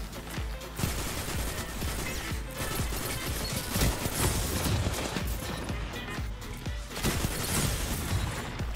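An enemy shoots from behind the player in a first-person video game, with dense, rapid gunfire and heavy impact bursts sustained throughout, loud and close.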